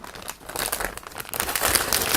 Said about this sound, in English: I just need to open this plastic bag